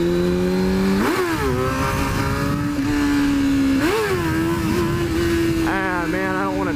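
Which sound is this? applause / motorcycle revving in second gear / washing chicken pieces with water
motorcycle revving in second gear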